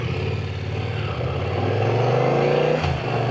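A Yamaha MT-09 SP motorcycle engine drones steadily while riding, its pitch rising gradually as it accelerates, loud and close with rushing wind.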